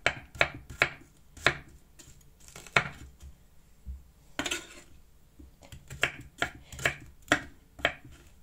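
A knife chops leeks into thin strips on a board for a leek and bacon tart, with a run of crisp, close, irregular cuts separated by short pauses.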